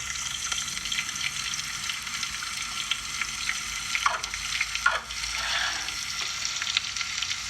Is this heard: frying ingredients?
yes